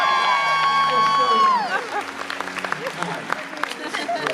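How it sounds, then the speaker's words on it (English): A convention panel crowd in Dallas claps and cheers after a sustained sung or sounded tone fades out, the applause steady with scattered sharper claps. "round of applause for Stephen"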